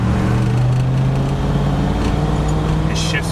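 An Isuzu Trooper with a swapped-in Lexus 4.0L 1UZ-FE V8 and a new clutch driving along, a loud steady low engine drone and road noise from inside the cab, with a slight pitch change as it shifts.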